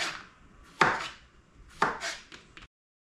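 Cucumbers sliced on a mandolin for refrigerator dill pickles, heard as two quick close crunching strokes about a second apart, then a softer run of short scrapes.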